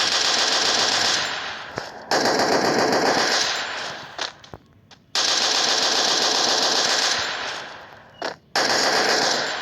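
Rapid automatic gunfire in the Free Fire battle royale game, long loud continuous bursts broken by short pauses and a few single shots, no voices.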